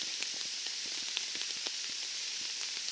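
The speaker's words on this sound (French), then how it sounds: "Il s'est mis assez vite à pleuvoir ce matin." Steady morning rain pattering on a hammock tarp at a bushcraft camp, dense and continuous with scattered sharper drops striking close overhead, no voices.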